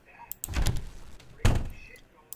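A door in Baldi's Basics Plus opens twice with a soft thumping swoosh, two separate close thuds about a second apart, with quiet game ambience between them.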